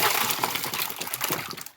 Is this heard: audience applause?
no